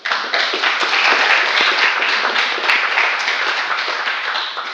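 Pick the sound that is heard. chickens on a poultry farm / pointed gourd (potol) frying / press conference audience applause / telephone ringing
press conference audience applause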